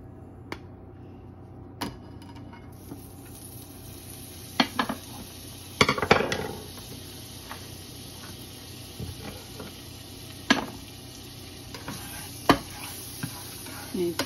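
Sausage frying in butter in a pan: a faint sizzle runs underneath while a utensil scrapes and clinks against the cookware, with sharper knocks now and then.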